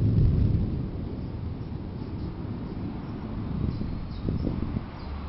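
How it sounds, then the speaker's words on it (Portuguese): Low rolling thunder from a strong January storm in Blumenau, Brazil rumbles through a steady wash of storm noise, with a few faint chirps of restless birds above it. "E a tempestade é forte."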